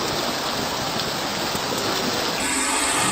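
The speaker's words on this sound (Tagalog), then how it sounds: "Malakas na ulan din ang naranasan sa ilang lugar, gaya sa Cabadbaran City." Heavy typhoon rain pours down in Cabadbaran City, Agusan del Norte, a loud, steady hiss of dense rainfall hitting surfaces, continuous throughout with no talking.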